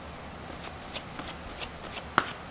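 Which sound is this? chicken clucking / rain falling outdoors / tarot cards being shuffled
tarot cards being shuffled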